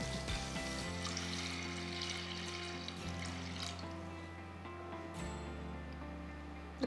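Water pours into a pressure cooker holding soaked lentils for dal maharani, a faint steady rushing stream that runs unbroken for several seconds.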